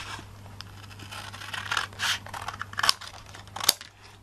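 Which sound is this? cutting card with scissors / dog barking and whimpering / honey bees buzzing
cutting card with scissors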